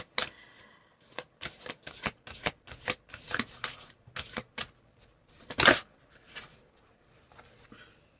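Tarot cards are shuffled and laid out in a quiet room, giving a string of crisp, close riffles and slaps spaced unevenly over several seconds, with one longer flurry near the end.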